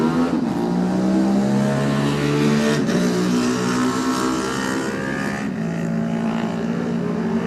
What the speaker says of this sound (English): Colin Stockdale safely away on the Honda.